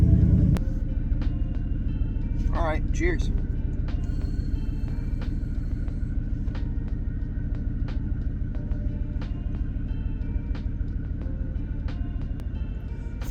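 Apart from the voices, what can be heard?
truck engine running after being started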